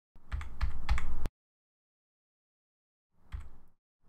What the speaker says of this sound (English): We can make our brush smaller by pressing the left bracket key a few times.